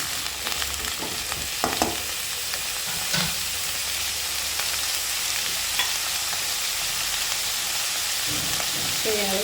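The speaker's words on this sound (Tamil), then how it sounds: "எண்ணெயிலே காயை வந்து நல்லா வதக்கிடலாம்" Vegetables sautéing in hot oil for sambar, a steady close sizzle and crackle that runs without a break, with faint stirring sounds now and then.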